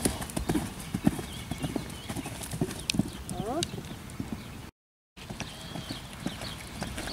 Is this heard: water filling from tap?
no